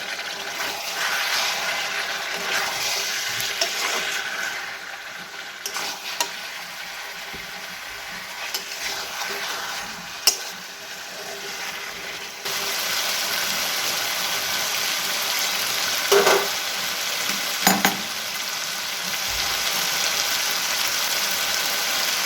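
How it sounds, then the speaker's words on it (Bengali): Spices for a chicken gravy are stirred in a pan, giving a continuous hissing sizzle with scattered scrapes and knocks of the spoon, getting slightly louder partway through, with no voices. "মশলাগুলো ভালো করে মিশিয়ে নেবো এবার।"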